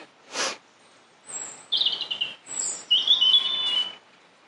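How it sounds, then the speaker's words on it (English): Several short bird chirps and tweets, bright and fairly close, arriving in bursts with quiet gaps between. "That bird song's picked up a lot."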